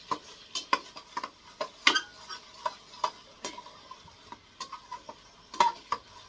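Spice paste (masala) being stirred and sautéed in a pan, a series of sharp close clicks and scrapes from the utensil at an uneven rhythm over a faint sizzle, no talking.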